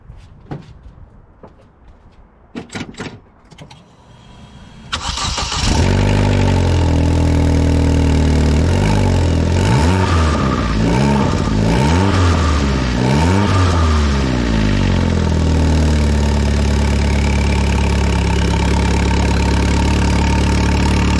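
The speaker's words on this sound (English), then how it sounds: "So I'll just start the car now so you can hear it." A Vauxhall Corsa VXR starts after a few faint clicks and settles into a loud, steady idle with a deep exhaust drone, running after a flex pipe replacement.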